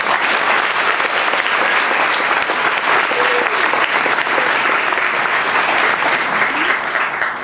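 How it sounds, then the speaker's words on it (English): Loud, sustained applause from a conference audience at a human rights event, a dense, even roar of clapping that holds steady throughout without letup. "I think it's worth an applause."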